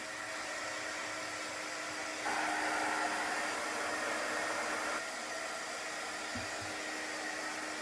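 A hair dryer blows steadily on wet chalk paste, a continuous close whoosh that grows louder for a few seconds in the middle before dropping back, with no talking.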